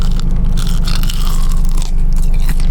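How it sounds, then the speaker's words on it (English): Loud, close crunching bites into crispy Popeyes fried chicken, dense crackling chews filling the whole moment with no talk. "We gotta have our ASMR crunch."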